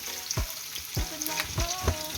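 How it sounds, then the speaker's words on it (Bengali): Chopped garlic sizzles steadily in hot oil, with a spoon or spatula scraping and tapping the pan in a loose rhythm over the frying hiss. "তেল হয়ে গেছে, এখন আমি এর মধ্যে দেব রসুন কুচি"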